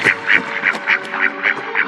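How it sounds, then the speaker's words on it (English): A swan on a lake giving a loud series of honking cries, about eight evenly spaced nasal calls in quick rhythm, close and clear with no talking. "The swan made a loud cry."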